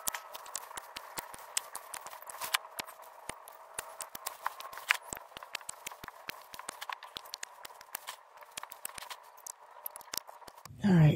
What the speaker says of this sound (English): First, I'm going to cut these to the ground.